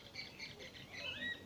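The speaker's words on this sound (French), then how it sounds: "j'adore les oiseaux, le bruit des oiseaux ici." Birds in French Guiana give faint, high chirps and short whistled calls over a soft background of insect buzz, lasting just over a second.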